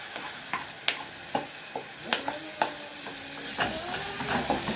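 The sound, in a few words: tomatoes added to pan with garlic, coriander and ghee, sizzling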